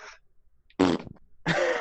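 A person imitates a fart with their mouth at a tabletop role-playing game: two loud, buzzing raspberry blasts after a short faint one, close to the microphone.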